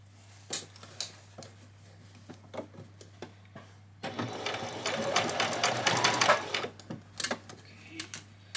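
A sewing machine stitches ruffles for a spring outfit in short, rapid bursts of mechanical whirring, with a longer continuous run in the middle and some ticking handling noises between runs.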